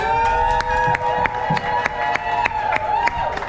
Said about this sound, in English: Give all these jersey breeders a round of applause,